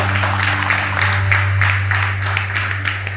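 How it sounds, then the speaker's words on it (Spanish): A church congregation claps to welcome first-time visitors, a continuous spread of hand claps with a steady low electrical hum beneath, no talking heard. "les damos un aplauso, un saludo para ellos, muy especial"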